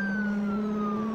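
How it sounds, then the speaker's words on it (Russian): An American ambulance siren in the BeamNG.drive driving game, a loud, steady electronic wail holding a clear tone that glides slowly downward across the short stretch, with no voices. "У нас на тесте скорая помощь американская, ambulance."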